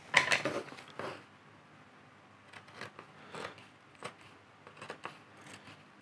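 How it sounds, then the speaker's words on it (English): Scissors snipping through material for a Bakugan deck box, a loud crisp cluster of cuts at first, then a series of lighter, spaced snips and rustles, close up in a quiet room. "And this one we're going to use scissors for"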